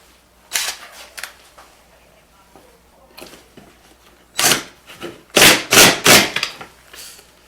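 Power drill driving a 1-inch pocket-hole screw into a wooden planter box leg, a few short sharp bursts and clacks with a cluster of louder whirring grabs near the end, close and alone.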